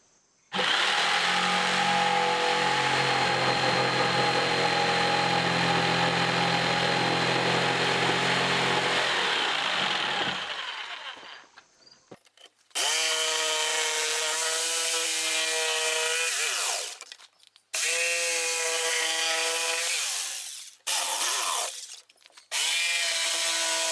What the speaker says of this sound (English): we're going to test out our Chicago Electric Harbor Freight jigsaw